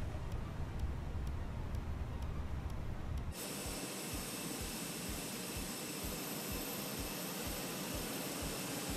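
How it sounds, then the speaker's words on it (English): A small jet airplane engine runs steadily on the ground, a loud continuous roar with a high whine and faint regular pulsing throughout. "Little baby plane."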